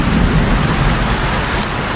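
Heavy rain pours down at night on a remote island in cold, stormy weather, a loud dense roar of water that fills the scene without pause.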